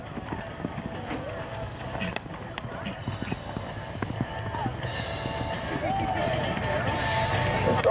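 Hooves pound rhythmically as a gray horse gallops across a rodeo arena, growing louder, while an announcer talks over the action.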